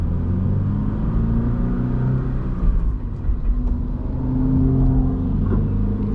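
A 2024 Subaru BRZ driving on the highway, a steady low engine drone and road rumble from inside the car, with the engine swelling slightly partway through and no talking.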